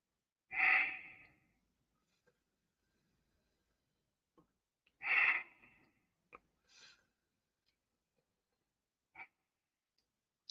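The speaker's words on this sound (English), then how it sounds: "you just suck in the air through the mouth and breathe out through the nose" Yoga breathing practice of the Shitali kind, with two strong, drawn-out breaths through the mouth followed by quieter nasal exhales and a few small clicks, close and quiet, with no talking.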